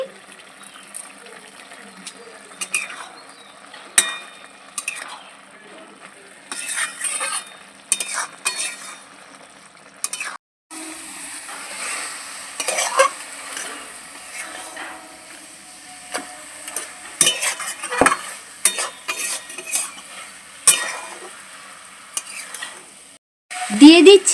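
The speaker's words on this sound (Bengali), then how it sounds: "ঢাকাটা খুলে একটু নেড়ে নিচ্ছি" A spoon stirs banana flower curry (mochar ghonto) in a frying pan, with repeated scraping strokes over a soft sizzle, close and intermittent, with a louder clatter at the end.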